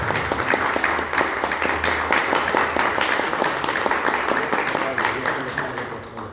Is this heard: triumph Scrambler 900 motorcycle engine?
no